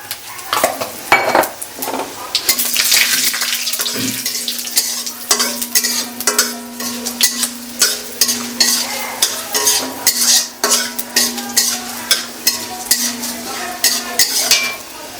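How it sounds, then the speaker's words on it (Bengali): Dried red chillies frying in a pan for khichuri, a steady sizzle broken by repeated scraping and clinking strokes of a spatula stirring against the metal, close and fairly loud, no talking. "কিছু শুকনো লঙ্কাও দিয়ে দিচ্ছি এখন কিছু শুকনো লঙ্কা চলে গেল"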